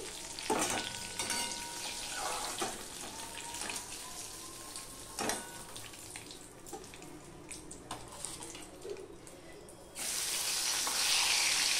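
Pieces of fish frying in oil, a quiet crackling sizzle with intermittent clinks and scrapes, then a louder, brighter surge of sizzling as fresh pieces go into the pan near the end.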